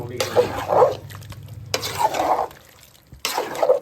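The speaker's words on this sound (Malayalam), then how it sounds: "ഒന്നും കൂടി നന്നായിട്ട് ഇളക്കുക" Coconut paste mixture being stirred in a cooking pan, in three scraping, wet bursts with brief pauses, close and moderately loud, no talk.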